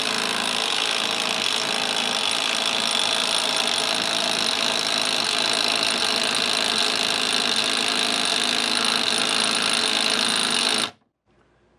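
Hyper Tough 12 volt brushless 3/8-inch impact wrench running on a 4Ah battery, a continuous loud whirring hammering drone held for about eleven seconds before cutting off abruptly.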